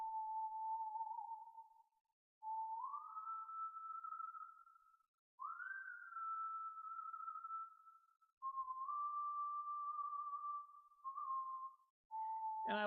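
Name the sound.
whistle sound in a song beat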